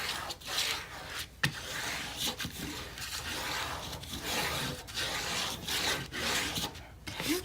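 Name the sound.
burnishing paper in a mini album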